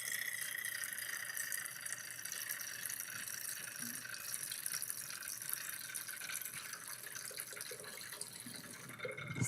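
Colorless solutions poured into a container during a kitchen-chemistry demonstration: a steady continuous trickle and splash of liquid, close and even, with no talking.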